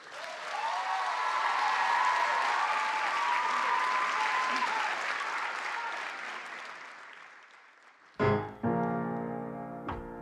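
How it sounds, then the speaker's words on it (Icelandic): A large audience at a school song contest claps steadily for a singer, a dense, sustained applause that swells, then fades, before a sudden short burst of instrumental sound cuts in near the end. "Gefum honum gott klapp."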